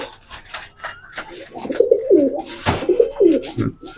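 Highflyer pigeons on a pigeon farm coo in repeated low, throaty bursts, close by and fairly loud, with a brief rustle or flutter midway and faint background voices.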